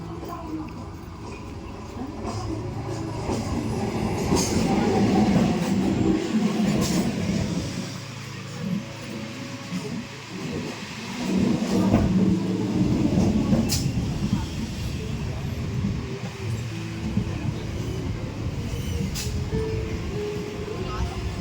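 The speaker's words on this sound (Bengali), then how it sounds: "দেখো অলরেডি ট্রেন ঢুকে গেছে" A suburban train rolls into a station in West Bengal with a heavy, swelling rumble of wheels and coaches that rises, eases and rises again. Voices carry on over it.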